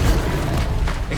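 An Incendio fire spell is cast in the Hogwarts Legacy video game on PS5, a loud, brief whooshing boom that fills the moment with a short burst of flame.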